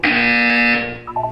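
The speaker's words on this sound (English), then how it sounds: "You will hear a buzzer." A loud, steady electronic buzzer from the Portal 2 video game sounds for about a second, then fades into a short rising chime-like tone.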